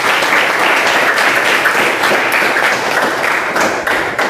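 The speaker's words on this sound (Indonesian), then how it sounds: "tepuk tangan untuk Anggun" Pupils in a classroom clap for their classmate Anggun, a loud, dense burst of close hand clapping that continues evenly for about four seconds.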